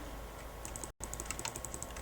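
Keys clacking on a computer keyboard in an indoor room, a steady run of light rapid taps with a brief dropout partway, close and fairly quiet.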